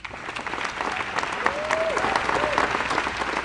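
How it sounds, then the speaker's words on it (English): A press conference audience gives a steady round of applause for the astronauts after a New Shepard launch. Many hands clap together, with a brief whistle or cheer rising briefly near the middle. "let's give another round of applause for our astronauts"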